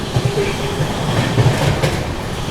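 The Anand Vihar–Ayodhya Cantt Vande Bharat Express rushes past at speed, a steady loud rumble with rhythmic wheel clatter and no voices.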